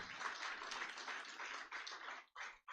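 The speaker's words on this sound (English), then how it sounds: "a round of applause, please" Faint applause from a crowd at a Nigerian government project launch event, steady clapping that trails off in a few last claps, heard from a distance.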